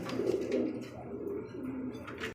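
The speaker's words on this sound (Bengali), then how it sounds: "এখানে আরও এক জোড়া বোম্বাই কবুতর" A pair of large red Bombay pigeons at a pigeon sale, giving soft low cooing calls nearby in a rolling, repeated rhythm with no talking.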